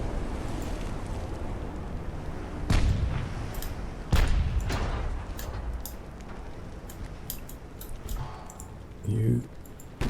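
Warship main-armament cannon fire in the naval game Ultimate Admiral: Dreadnoughts, several heavy booming shots spaced a second or more apart over a low rumbling sea bed, with a voice talking throughout.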